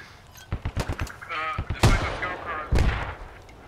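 Rockets launched in the military shooter Squad, a quick series of sharp bursts followed by several heavier, louder whooshing blasts, mixed with a shouted voice and other battlefield noise.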